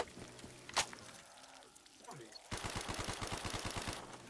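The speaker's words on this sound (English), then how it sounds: "Grenade launcher, go boop, boop, boop," Rapid bursts of weapon fire with sharp pops in Black Ops 3 Zombies, a loud repeated volley in the last half, following a single sharp crack and quieter rumbling.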